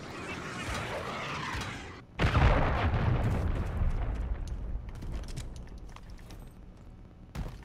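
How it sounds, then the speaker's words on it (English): A cruise missile strike in a first-person shooter lands with a loud, deep boom that rolls into a long rumbling decay, followed by scattered crackles and another short blast near the end, under quiet game ambience. "Friendly cruise missile deployed."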